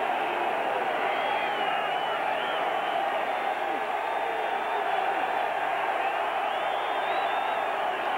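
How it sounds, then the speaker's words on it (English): A college football stadium crowd at the 1985 UCLA versus Tennessee game produces a steady, dense, far-off roar of cheering that holds without a break throughout. "Crowd getting into it."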